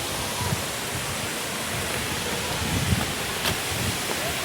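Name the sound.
waterfall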